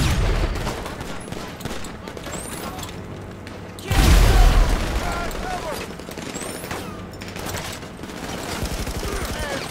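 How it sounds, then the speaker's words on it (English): Service rifle gunfire in the GTA 5 Online video game rattles in dense bursts over constant game noise, with one heavier boom partway through. "let's get the service rifle out"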